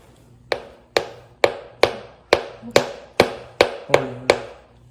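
A knife chopping through a hard refrigerated cake, ten sharp evenly spaced knocks about half a second apart, close and loud with brief ringing decay after each strike.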